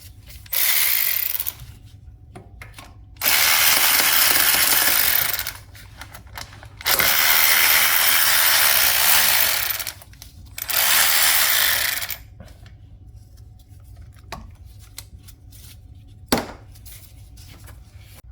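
A ratchet backs out a 12mm EGR cooler bolt on a 2013 Toyota Prius 1.8 in four loud bursts of rapid clicking, with quiet pauses between them and a single sharp knock near the end.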